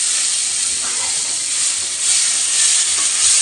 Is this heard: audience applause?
no